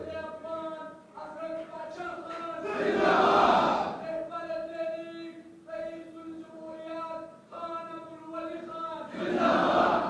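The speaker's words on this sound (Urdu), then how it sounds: "جو آپ نعرے لگا رہے ہو، آپ کا نعروں کا بہت شکریہ" Rally crowd in Peshawar chanting slogans in loud bursts, with harmonic shouted voices swelling and fading in repeated waves across the clip.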